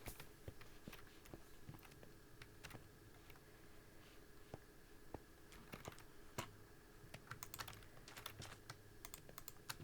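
Computer keyboard typing in quick irregular bursts of sharp clicks, close and quiet, continuing steadily with no speech.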